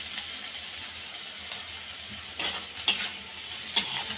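Crushed green chilli thecha is sautéed in a pan, giving a soft, steady sizzle with occasional scraping stirs and a couple of sharper clicks of the spatula near the end.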